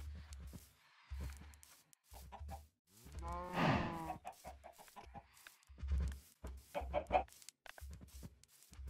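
Cattle lowing alongside clucking chickens in the video game Minecraft, with short repeated farm-animal calls, one longer louder call near the middle, over low rhythmic game sounds.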